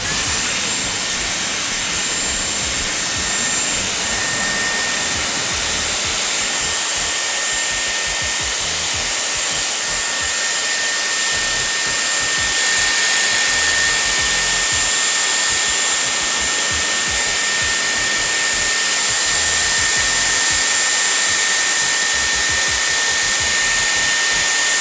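A Dyson Airwrap hair styler running on its highest setting, giving a loud, continuous, steady rushing whoosh of air with a thin high whine, close by and uninterrupted with no talking.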